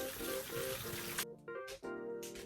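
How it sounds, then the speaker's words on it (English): Tap water running into a sink during handwashing, a steady rushing stream that cuts off briefly and resumes, with a few splashes, faint and nearby. "wash and dry hands thoroughly"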